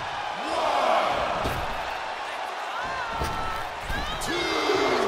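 A wrestling arena crowd, Selene Valkyrie vs Naomi Sylvina, roars and cheers steadily at mid distance, with whoops and swelling noise over a few scattered slams.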